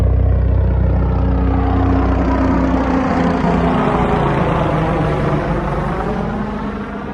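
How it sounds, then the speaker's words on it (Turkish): A helicopter approaches, its loud, droning rotor and engine roar filling the scene at close range and holding steady as it moves past. "Helikopter yaklaşıyor abi."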